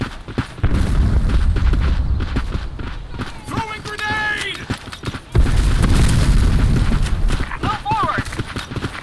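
A grenade blast in the online shooter Black Squad during a competitive match lands as a sharp booming burst amid dense gunfire and game noise, with players talking over it throughout.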